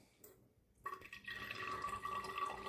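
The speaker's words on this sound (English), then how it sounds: "We are going to put in 25 ml of water." Water poured from a measure into a petrol sample for an ethanol separation test, a steady trickling pour that starts after a brief quiet gap and continues close and moderately loud.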